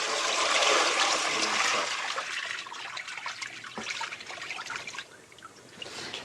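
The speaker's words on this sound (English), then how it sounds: "And then you basically cover in water." Water gushes and splashes steadily into a pot of heavily salted meat in a kitchen, loud at first and then settling into a softer trickle, with no talking.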